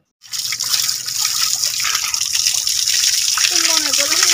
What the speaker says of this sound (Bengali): পাহাড়ের অনেক ভিতর থেকে এই যে একটি নল দিয়ে যে পানিগুলো পড়তেছে